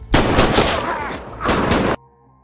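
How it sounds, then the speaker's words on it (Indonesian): Gunfire is exchanged in a film scene during a bank robbery shootout: dense, loud overlapping shots for nearly two seconds, then a sudden cut to quiet. "Baku tembak terus terjadi di antara keduanya."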